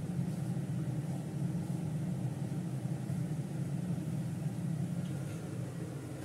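Water boils in a wok on the stove, ready for chicken to be added. It makes a steady, fairly quiet, continuous rumbling bubble with no breaks.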